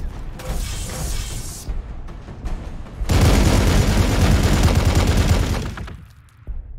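Heavy gunfire from attacking units in the strategy game Warhammer 40,000: Gladius – Relics of War, a dense fusillade of shots and booms that swells loudly midway, then briefly drops before resuming.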